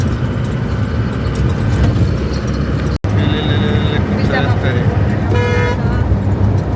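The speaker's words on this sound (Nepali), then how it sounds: "यहाँ नेपालमा चाहिँ यसरी हर्न बजाउने हो," Honking from a vehicle horn on a road in Nepal rises above steady road and engine rumble, a few short toots and a longer blast near the end, with voices underneath.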